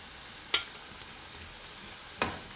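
Beef kebabs being lifted slowly out of hot frying oil give two short, sharp sizzling splashes spaced well apart, with faint, quiet oil noise in between.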